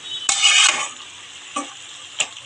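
Malabar spinach cooks in its own released water in a pan and gets stirred, one long scraping sweep followed by two short scrapes over a soft steady sizzle.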